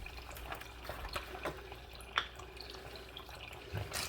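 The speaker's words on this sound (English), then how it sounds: "I'm gonna put some water in here." Water poured into a pot of sorted dried beans in a home kitchen, a quiet, steady splashing and trickling with a few faint drips and clinks, heard alone without talk.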